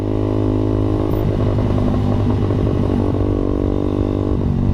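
Steady Suzuki Satria FU motorcycle engine drone while riding, a constant throaty hum with slight shifts in pitch and a faint rattle, no talking.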